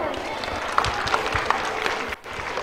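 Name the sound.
applause for the school authorities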